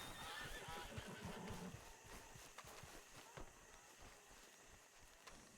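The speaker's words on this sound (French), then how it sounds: "Oui, petit cheval, oui." A horse in Red Dead Redemption II whinnies once near the start, with soft hoof clops and light ambient wind following.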